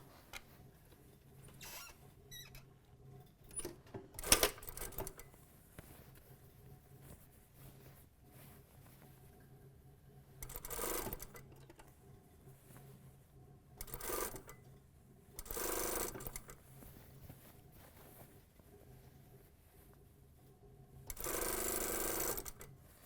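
A sewing machine stitching a pant drape, heard as short bursts of whirring stitching spaced apart, the longest near the end, over a quiet background with small clicks and handling noises between runs.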